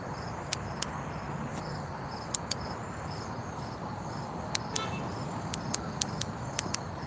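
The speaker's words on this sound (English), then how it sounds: "So it clicks on and then it comes on and it clicks again and it comes off" A flashlight switch clicks sharply about a dozen times, mostly in quick pairs, close by, over a steady background of chirping crickets and insects.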